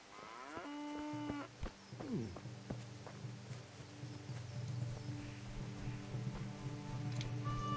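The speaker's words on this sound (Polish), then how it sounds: "Krowy." Cattle moo loudly in the video game Kingdom Come: Deliverance, with several long, drawn-out calls from nearby animals, along with soft footsteps and a steady patter like rain.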